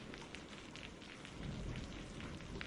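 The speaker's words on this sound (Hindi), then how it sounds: "बाहर जोरों से तूफान ने कहर मचाया हुआ है।" A heavy storm outside, with steady dense rain hissing on surfaces and a low rumble of thunder swelling midway, constant and moderately loud with no voices.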